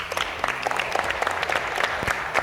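A group claps steadily after a successful drill at a basketball rebounding coaching clinic, dense and even throughout with no talking.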